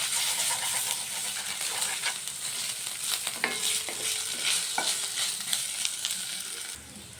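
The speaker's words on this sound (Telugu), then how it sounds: "ఇప్పుడు అల్లం వెల్లుల్లి పేస్ట్ ఫ్రై అయిపోయింది కదా" Ginger garlic paste frying with vegetables in a pan for gobi fried rice, a continuous close sizzle broken by a few sharp scraping stirs and clinks.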